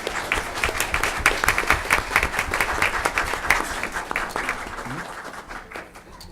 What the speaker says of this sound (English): Let's give a round of applause for all these students and their hard work.